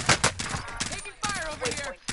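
Rapid bursts of gunfire in Call of Duty Warzone on Rebirth Island crack out in quick succession, close and loud, mixed with a voice speaking over the shots.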